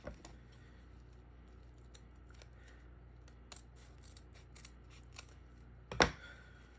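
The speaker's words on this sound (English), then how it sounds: "we want to make sure that we have sharp scissors when we're doing our cuts" Scissors snip through ribbon repeatedly, producing soft, crisp cuts scattered at irregular intervals, with one sharper, louder snip near the end over a quiet background.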